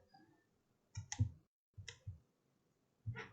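Short, sharp computer mouse clicks, a few quiet single and double clicks spaced apart over faint background hiss while modelling a small lidded box in DesignSpark Mechanical CAD software.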